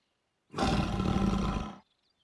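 A tiger gives a single loud, full roar lasting just over a second, standing alone against silence.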